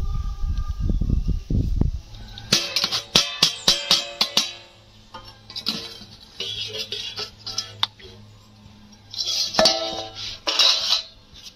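A metal lid lifted off a pot used to bake a homemade birthday cake, with a burst of close clinks, scrapes and rattles, a pause, then more clattering handling.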